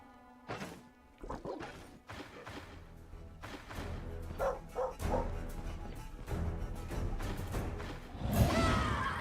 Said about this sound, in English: there's a lot of dogs in there